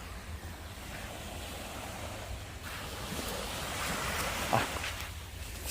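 Ocean surf washing onto Songjeong Beach in Gangneung, a steady broadband rush of breaking waves with wind buffeting the microphone, no voices.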